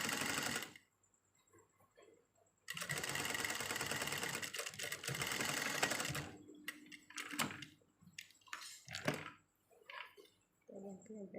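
A sewing machine re-stitches the inner seam of a pair of trousers in rapid, loud bursts of stitching, one long run in the middle and shorter runs later, with quiet pauses and handling noises between.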